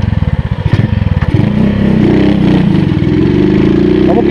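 A motorcycle engine on a dirt trail pops in rapid uneven bursts, then settles into a loud, steady close-up drone.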